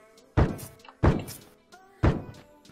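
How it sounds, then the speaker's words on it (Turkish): Three muffled, punchy thuds ring out at an even pace in PUBG Lite: suppressed shots from an SKS rifle, each one sharp at the start with a short decaying tail. "O ne silah? SKS susturucu var."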